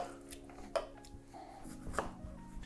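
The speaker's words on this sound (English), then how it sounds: "We're gonna give this a light muddle, just to kind of release the aromatics here" Basil leaves are lightly muddled with simple syrup in a cocktail tin, giving a couple of soft thuds and dull scraping knocks of the muddler against metal, quiet and close with no voices.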